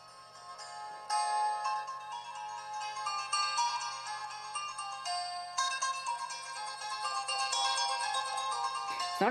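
A jazz station plays through a General Electric 3-5027A radio: continuous bright, melodic music with sustained tones, steady and moderately loud throughout, with no talk.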